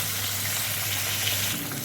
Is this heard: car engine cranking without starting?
no